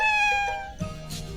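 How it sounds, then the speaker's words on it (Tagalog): A cat gives a single clear meow with a bright, drawn-out tone, followed by a shorter lower-pitched sound, close and alone with no talking. "Ang cute nga ng pusa."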